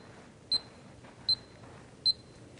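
Golf Metronome Pro by Eyeline Golf sounding three short, bright electronic beeps, evenly spaced about three-quarters of a second apart, over a quiet outdoor background with no talking.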